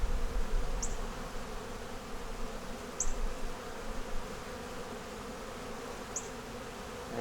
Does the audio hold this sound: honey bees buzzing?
yes